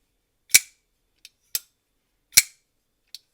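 A Quiet Carry LCT folding knife is flicked open and snapped shut with the thumb: several sharp, crisp metallic clicks, close and loud, separated by short silences.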